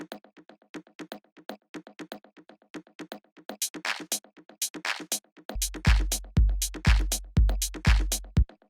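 Minimal house percussion loop with a bongo-type pattern, two percussion sounds in a quick, steady rhythm that starts fairly soft, then a deep kick enters on every beat near the end.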